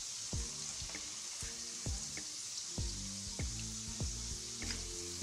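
Dried dates frying in hot ghee, a steady fine sizzle with repeated soft popping bubbles and gentle knocks, fairly quiet and close.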